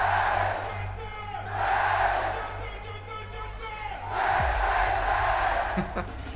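A large crowd at the Fortnite FNCS Global Championships roars and cheers in swelling waves, heard through a stream at moderate volume with a steady low hum beneath.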